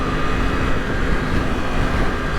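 2020 Yamaha MT-10 motorcycle under way, a loud, steady roar of engine and rushing wind without clear changes in throttle over a couple of seconds.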